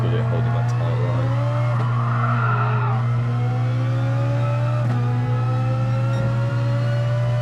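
A Ferrari race car in GT Sport on the Tokyo Expressway circuit: a steady, loud engine drone with rising and falling pitch as it shifts and corners, plus hints of tire squeal, all continuous through the stretch.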